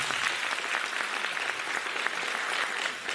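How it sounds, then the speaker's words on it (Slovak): Dense audience applause at a Mother's Day stage show, a steady wash of many hands clapping at moderate distance with no break across the clip. "veľký potlesk"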